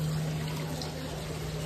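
Steady rushing water, a continuous wash of falling water with no pauses, moderately loud and close, with a low constant hum underneath.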